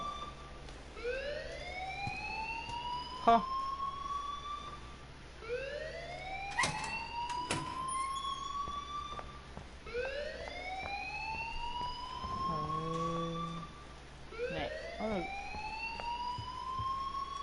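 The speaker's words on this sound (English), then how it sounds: "please turn off that alarm since that's your job" A rising, wailing siren-like alarm in the video game Life is Strange cycles repeatedly, each sweep climbing in pitch over about three seconds, with a brief lower buzz near the end, while characters speak over it.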